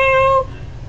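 A pet cat gives a single short meow up close, a clear tonal cry lasting under half a second and then fading into room noise.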